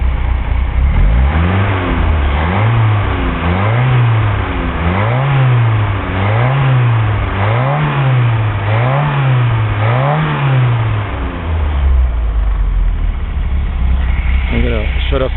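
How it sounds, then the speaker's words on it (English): A Fiat Spider engine is revved repeatedly in a regular rising-and-falling rhythm, about eight throttle blips with audible intake noise, then settles back to idle. "Listen to the induction sound."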